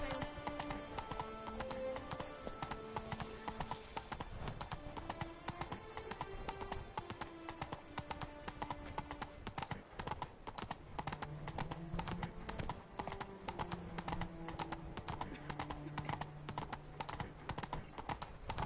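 Roach the horse trots in The Witcher 3, hooves clip-clopping in a steady rapid rhythm throughout, with game music playing underneath and an occasional whinny.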